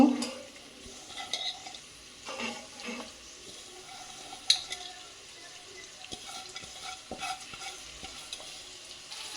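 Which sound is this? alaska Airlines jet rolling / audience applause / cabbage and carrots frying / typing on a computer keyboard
cabbage and carrots frying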